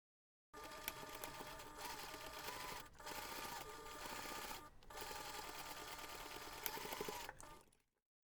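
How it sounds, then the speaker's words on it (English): A sewing machine sews a seam on a fabric jewellery pouch with a continuous mechanical whir and rapid needle clatter, briefly pausing twice before stopping. "we're going to take this to the machine and we're going to sew the seam"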